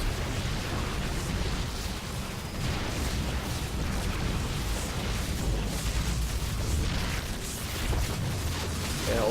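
Cannons are destroyed in StarCraft II amid a dense, continuous barrage of booming explosions and battle noise, loud and sustained throughout.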